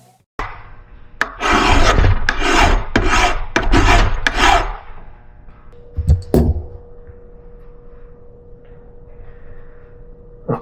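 Hand file rasping across the edge of a nut clamped in a vise, several loud, rhythmic close strokes in quick succession, then a few isolated scrapes and taps before it goes quiet.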